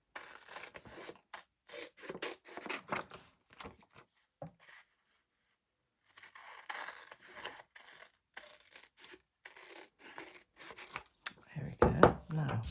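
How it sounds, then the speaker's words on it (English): Scissors snip repeatedly through postcard card stock in fussy cutting, a close run of short, dry cuts in bursts with brief pauses, and a voice speaking near the end. "so therapeutic is just the sound of the scissors"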